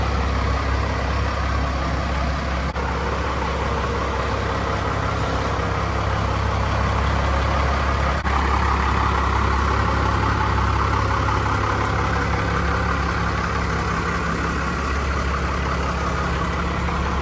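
A first-generation Cummins diesel pickup idles steadily while it backs up slowly in a tight space. The deep, even engine drone is close and constant and runs throughout without any talking.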